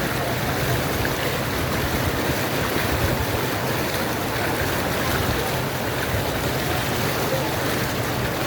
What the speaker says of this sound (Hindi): पानी का बहाव इतनी तेज़ है कि पाँव उठाते हैं और पानी की बहाव की तरफ जाता है।